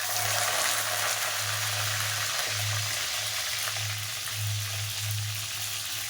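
Brinjal fries in hot oil in a pan, giving a steady, broad sizzle with a low hum beneath, close and continuous, with no talking.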